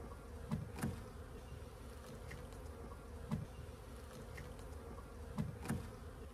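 Honeybees hum steadily around an open hive during a spring hive transfer, a dense continuous drone with a few louder passes as bees fly close to the listener.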